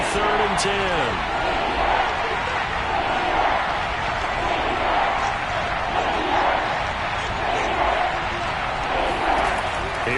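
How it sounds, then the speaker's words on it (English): A Kansas City Chiefs NFL football stadium crowd roars with a steady, dense cheer throughout, broad and distant, while commentators talk over it. "Crowd getting in it a bit already."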